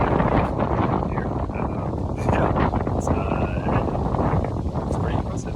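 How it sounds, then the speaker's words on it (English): Gusty wind buffets the microphone out on a golf course at Lake Forest Golf Club, a steady loud rumble with someone talking over it. "pretty windy"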